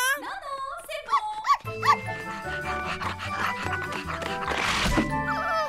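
A cartoon dog named Rex barks, yips and whines several times in short bursts, mixed with bright cartoon sound effects and a musical score.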